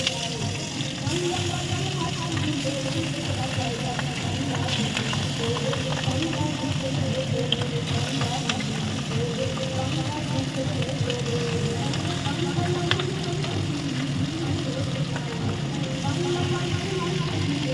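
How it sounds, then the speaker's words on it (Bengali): Turmeric-and-salt-rubbed pabda fish fry in hot oil with a continuous, even sizzle that runs throughout, while a person talks over it. "মাছগুলোকে এইভাবে লাল লাল করে ভেজে নেবো"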